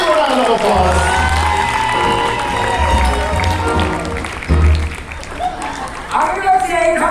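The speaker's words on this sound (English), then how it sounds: "Give them all a big round of applause." Crowd applause with cheers and whoops at the Universal Studios Hollywood special effects show, loud and sustained, with children shouting and an amplified voice talking over it.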